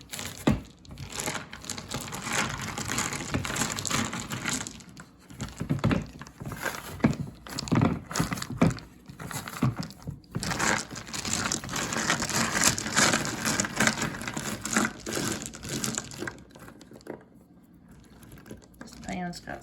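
Frozen blueberries being loosened from freezer trays, a dense crackling rattle of icy berries tumbling and plastic trays flexing, close up, continuing in bursts for most of the time with someone talking at times.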